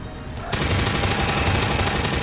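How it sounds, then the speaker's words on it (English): Sniper gunfire from a headshot in the XCOM video game, a loud burst starting abruptly and sustained as dense rattling, crackling fire. "He's going to take the headshot."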